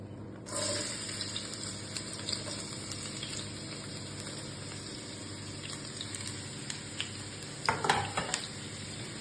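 Onions drop into plenty of hot oil for a chicken fry and give a steady, close sizzle with occasional stirring clinks and a louder burst of spattering near the end.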